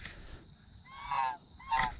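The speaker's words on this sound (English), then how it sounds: "We're not getting away from the goose." A goose by a farm pond dam honks twice in quick succession, nasal and fairly close, with a short faint call before.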